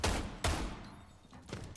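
Two sharp gunshots crack close in Rainbow Six Siege during an esports match, followed by a fainter third shot and a decaying tail of echo.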